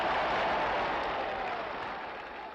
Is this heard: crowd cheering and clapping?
yes